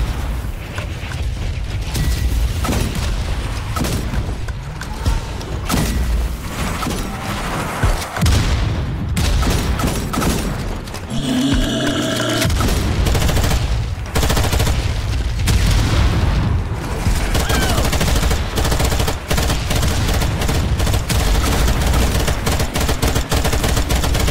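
Twin shooter gunfire in the video game Strange Brigade, loud and sustained, with rapid bursts, booming shots and mechanical clatter packed densely across the whole stretch and only brief lulls between volleys.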